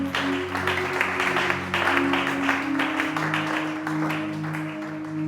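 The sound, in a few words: people cheering and applauding for the Lord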